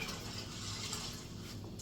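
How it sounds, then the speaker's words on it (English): Water poured into a cooking pot of rice, a continuous close splashing and gurgling pour lasting under two seconds, with no talk. "I'm going to add a little bit more water"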